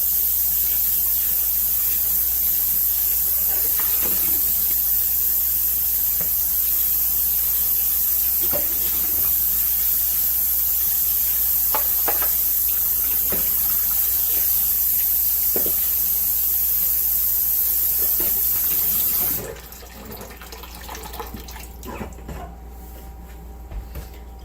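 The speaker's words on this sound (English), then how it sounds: "you can hear the water running" A tap runs steadily with a hissing rush for about twenty seconds, with small clinks and knocks, then shuts off, leaving faint handling sounds.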